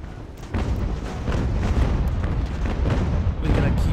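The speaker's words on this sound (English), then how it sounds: "I'm just afraid of their cannons." Continuous low rumbling booms of cannon and artillery fire from a British invasion of New York battle in Ultimate General: American Revolution, dense and heavy throughout with no distinct single shots standing out.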